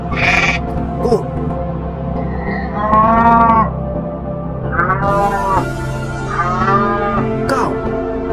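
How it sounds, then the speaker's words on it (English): A cow moos several times, giving long, deep, close lowing calls with short pauses between them, with a brief spoken word at the start. "Cow."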